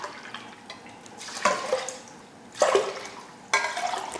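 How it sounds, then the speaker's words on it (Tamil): Water is poured into a cooking pot in three separate splashing bursts, each a short gurgling rush of liquid, close by with quiet gaps between. "தண்ணி ஊற்றிக்கலாம்."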